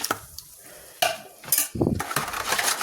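Pizza dough ingredients, including sugar and warmed milk, being mixed in a bowl, giving scraping, clinking spoon-against-bowl stirring sounds in short uneven bursts, close and moderately loud with no talking.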